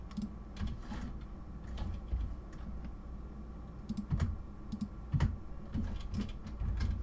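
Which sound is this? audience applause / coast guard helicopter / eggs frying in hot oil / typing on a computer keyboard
typing on a computer keyboard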